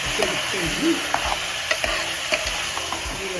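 Chicken frying in ghee in a pan, a steady close sizzle with scattered scraping and stirring clicks from a spatula throughout.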